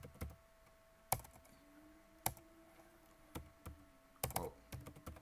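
Keystrokes on a computer keyboard while editing text, about a dozen sharp, separate clicks in an uneven rhythm with brief pauses, close and quiet in an otherwise still room.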